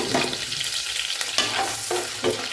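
Sliced onions deep-frying in hot oil for chicken biryani, a steady close sizzle with several sharp stirring scrapes breaking through at intervals.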